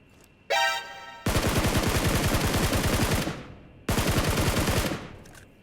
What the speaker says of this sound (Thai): ข้างนอกมันยิงเราจริงด้วย